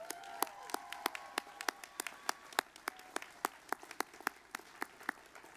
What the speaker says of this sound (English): let's show our thanks to them with a round of applause